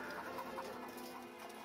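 Battery hens cluck faintly inside tiered cages on a New Zealand egg farm. The soft, scattered clucks sit over a low, steady barn hum, with no speech.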